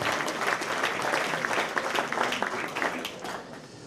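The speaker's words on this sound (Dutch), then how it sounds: "Applaus." An audience at a 2014 municipal election debate for party leaders in Bladel applauds in a warm, even burst of many hands clapping, fairly near, that thins and fades toward the end.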